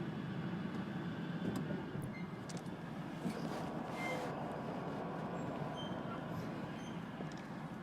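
Steady engine rumble from a car warming up in a driveway during a brake booster and master cylinder repair, a continuous close idle holding even for the whole stretch with no voices.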